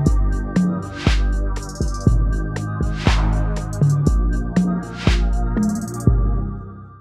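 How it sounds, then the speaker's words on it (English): A pluck synth patch from the Arturia Jup-8 V3 plugin, set with a shortened envelope attack, plays a lively melodic pattern of quick plucked notes with decaying tails, joined by crisp hi-hat-like ticks and airy swells. "the Jupe 8V3, which is basically just a pluck sound that I got"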